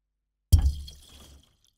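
A single muffled thump with a low boom and a short watery splash, made with a balloon in a bathtub to mimic an underwater bomb, fading over about a second in an otherwise silent space.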